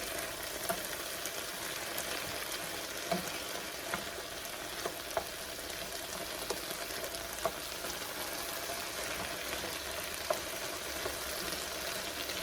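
Onions and vegetables frying in a pan for a Philly cheese sloppy joe, with a dense, constant crackling sizzle, close and even throughout, and a few small pops and stirring knocks.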